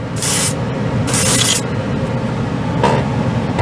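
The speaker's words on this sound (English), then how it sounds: "I just like to spray my acrylics over a primer." Two brief hissing bursts of a Harder & Steenbeck Colani airbrush spraying acrylic paint over primer, then a steady low hum with a faint third puff near the end, recorded up close.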